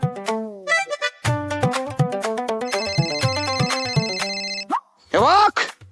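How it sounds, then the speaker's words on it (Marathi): A mobile phone rings in a Marathi TV serial scene, its ringtone a loud, bright melody of repeating chiming notes that runs for several seconds before cutting off, followed by a brief burst of another sound. "म्हणजे कवीचाच फोन आहे"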